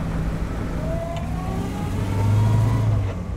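An Austin A35 car's engine driving at speed on the road at around 40 mph, a steady loud drone with a rising whine and swelling engine tone toward the end, heard from inside the car.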